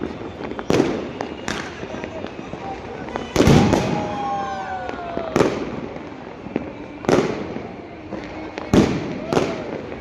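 Firecrackers set off in a small cramped space, a rapid series of sharp bangs and crackling bursts in several clusters, loud and close, with a hissing burst between bangs.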